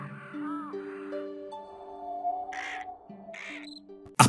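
Crows cawing and calling while feasting on a carcass in the video game Life of Black Tiger, a few harsh caws over sustained tonal game music, moderately close, ending with a sharp click.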